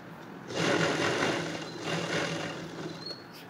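A sewing machine runs a short burst of steady stitching through blouse fabric, its rapid mechanical whir rising, then easing off toward the end, close and alone.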